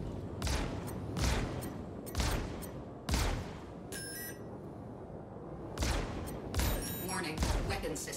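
Laser scatterguns fire from an Anvil F7C Hornet Wildfire fighter in Star Citizen, loud sharp bursts repeating in roughly one-second volleys with a short electronic warning tone between, and spoken voice at times underneath.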